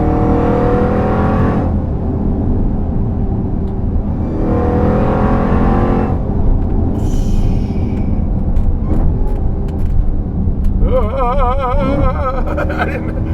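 A 1,000-horsepower Jeep Grand Cherokee's engine drones and revs throughout while driving uphill, rising and falling as the driver shifts gears, with brief higher whines from the motor.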